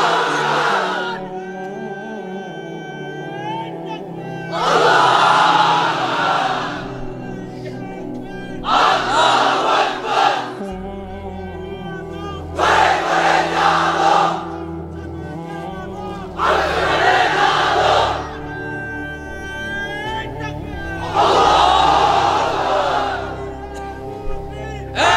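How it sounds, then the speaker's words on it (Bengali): A crowd of unmarried men at a religious gathering roars the takbir chant in repeated loud bursts, each answering a single leading voice calling between them. "এবার অবিবাহিতরা দাও লিল্লাহি তাকবীর"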